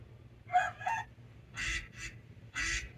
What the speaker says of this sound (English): The next one is a ducky. Quack, quack, quack, quack, quack, quack, quack, quack, quack, quack.